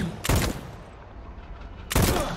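Two pistol gunshots fired in the Void Train video game, each a sharp loud blast with a brief tail, spaced about a second and a half apart over quiet background.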